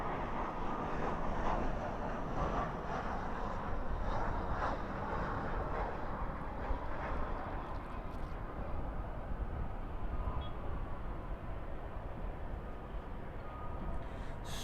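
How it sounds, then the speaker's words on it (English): Airbus A319 landing at night at Dallas/Fort Worth International Airport, a continuous broadband roar of engines and reverse thrust heard from a distance, steady and fairly loud throughout. "reversers out on that A319"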